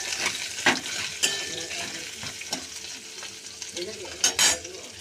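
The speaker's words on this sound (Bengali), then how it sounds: "পেঁয়াজটা একটু নেড়ে চেড়ে দিই।" Raw onion frying in a pan is stirred with a utensil, giving a steady sizzle punctuated by several sharp scrapes and knocks against the pan, close and fairly quiet.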